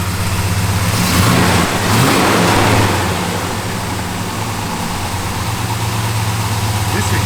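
A 1967 Plymouth GTX Mopar with a 4-speed runs steadily with a loud, constant low engine drone and a couple of brief revs early on, while a person talks over it.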